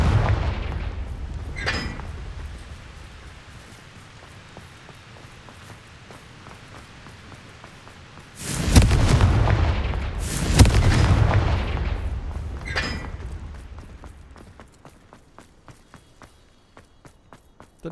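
Confringo blasting spell explosions in Hogwarts Legacy: two heavy booming blasts land close together midway, with deep rumbling tails, framed by quieter fizzing spell bursts and light footstep taps across the rest.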